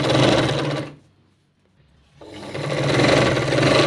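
A sewing machine runs double stitching over delicate lace on a long sleeve, a loud steady whirring burst that stops for about a second of near silence, then starts up again and keeps running.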